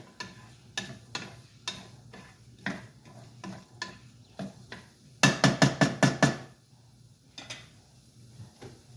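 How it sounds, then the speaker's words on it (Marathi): Masala being stirred in a cooking pan: a steady series of scraping, tapping strokes with a light sizzle beneath, ending in a quick run of five or six sharp, louder clacks of the spoon against the pan. "आणि छानपैकी त्याला आता ढवळून घ्यायचं"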